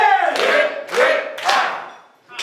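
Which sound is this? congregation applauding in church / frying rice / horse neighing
congregation applauding in church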